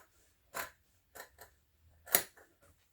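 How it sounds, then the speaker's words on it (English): Scissors make a few crisp, close snips through fabric for a mini backpack, spaced irregularly, with one sharp loud cut near the end amid quiet pauses. "just kind of fold it to get a little snip and then cut directly along that line"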